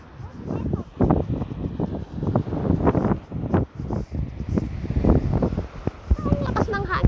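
Strong, gusty wind roars and buffets the microphone outdoors in continuous loud bursts, with people talking underneath throughout.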